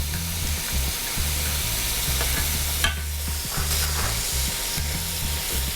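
Food sizzles steadily in a hot pan, close and continuous, with rhythmic stirring or scraping strokes repeating over the frying hiss.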